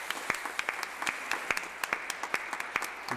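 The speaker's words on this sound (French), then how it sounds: "On peut les applaudir grandement." A church congregation at Easter Mass applauds the parish team with moderate, steady clapping. Individual claps ring out distinctly in a reverberant space.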